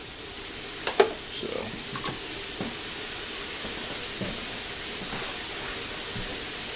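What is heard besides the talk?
rinsed ground beef sizzling, water boiling off as steam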